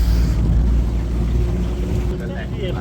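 A motorboat, just launched from a beach by tractor in New Zealand, runs with a loud, steady low engine rumble and water and wind noise around it.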